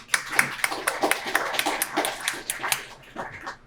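At a school Student of the Month ceremony, an audience claps for honorees in a thin, uneven patter of separate hand claps, a modest group rather than a dense crowd, fairly faint and tapering off near the end.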